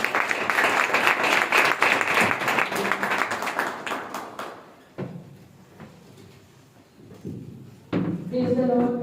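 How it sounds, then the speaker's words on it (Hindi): A church congregation claps loudly together for about five seconds in a dense burst, then the room quiets to soft bumps and shuffling before a voice begins speaking. "जोरदार ताली बजाकर उनके नाम को बढ़ाएं।"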